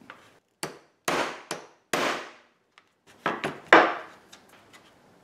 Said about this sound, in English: Let's punch holes for this.